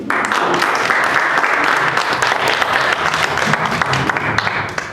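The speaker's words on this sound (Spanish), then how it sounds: "a quien les pido le damos un fuerte aplauso" A crowd in a hall gives sustained applause for a speaker, dense and even clapping that stays steady and fairly loud for the whole stretch without any voices over it.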